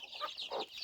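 Local chickens on a poultry farm cluck in a few short, close, fairly soft calls.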